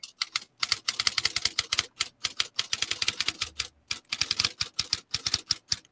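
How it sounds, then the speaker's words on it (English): Rapid bursts of typewriter keystrokes clatter close and loud, broken by short pauses between runs, with no talking. "listen to that last slide of the typewriter"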